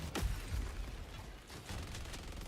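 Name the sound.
sentry turret firing projectiles in video game Helldivers 2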